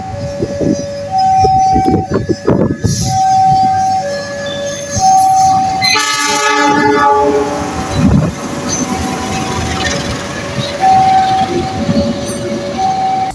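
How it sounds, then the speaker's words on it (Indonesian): Trains at Solo Balapan railway station: a loud train horn, rolling wagons with clickety-clack and screeching wheels, plus tonal station chimes, close and busy throughout. "Di keramaian kota Solo, ada sebuah stasiun yang dinamakan stasiun balapan."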